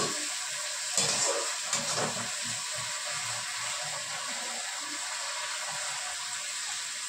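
Water hisses and steams in a hot pan of fried mustard paste as cooking begins for begun pathuri, a Bengali eggplant dish, with a brief splash near the start followed by a steady sizzling hiss.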